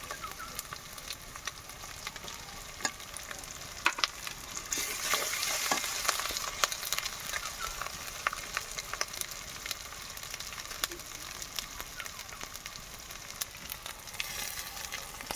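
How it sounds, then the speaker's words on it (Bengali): Cumin paste and dried red chili paste fry with water in a pan, a continuous crackling sizzle with frequent spoon scrapes and stirring clicks, growing louder for a spell midway. "জল দিয়ে ভালো করে মশলাটা কষিয়ে নেব।"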